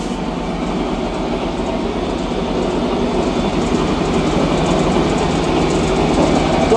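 A Wolf Kolbe AWE 130 automatic angle machine from Germany runs after repair, giving a steady, loud mechanical drone with a fast rhythmic clatter throughout. No one speaks.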